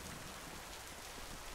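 Steady rain effect from the Chaac skin in the game Smite, a soft continuous patter of drops hissing evenly and faintly for the whole moment, with no voices over it.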